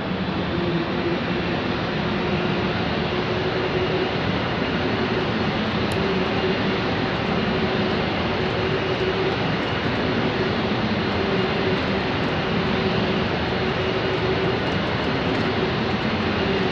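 Airbus airliner engines roaring on the runway at takeoff in Real Flight Simulator, a loud steady broadband rumble with a faint whine that holds unchanged throughout.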